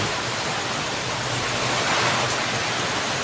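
Heavy typhoon rain pours down with strong wind in a Masbate town, a dense, continuous broadband hiss close by and fairly loud, with no voices.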